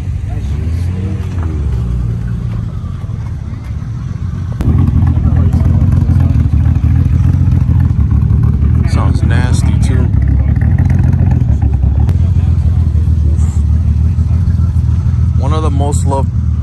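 A Mitsubishi Evo 5 at a JDM night meet, its engine a loud, steady rumble that swells after a few seconds, with people talking nearby throughout.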